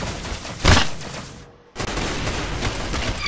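Bursts of gunfire from a Roblox shooting game ring out loud and dense, with a heavy blast early on, a short drop to near silence, then sustained rapid firing through the end.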